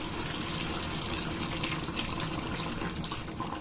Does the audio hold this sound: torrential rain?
no